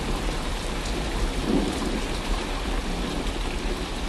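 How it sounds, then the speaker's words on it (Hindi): In a cartoon, heavy rain falls with hail, a dense, steady roar of rain on surfaces with a low rumble of thunder underneath, loud and continuous throughout. "कुछ ही देर में बारिश के साथ साथ ओले भी गिरने लगते हैं।"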